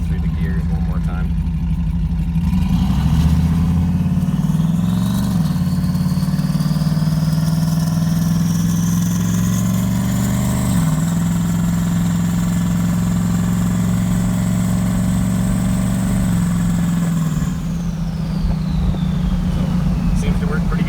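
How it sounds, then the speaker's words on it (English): A car fitted with a rebuilt 4L60E automatic transmission accelerates on a dirt road, the engine rising in pitch through several gear changes before easing off; loud and close throughout, with a steady drivetrain drone and audible shifts. "we'll run her through the gears one more time."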